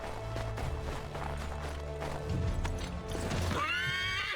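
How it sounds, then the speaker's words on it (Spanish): A horse in Assassin's Creed III whinnies loudly near the end, after steady clip-clop hoofbeats and game ambience; the hooves sound close. "Vamos a llamar ahora al caballo o agarramos uno de acá."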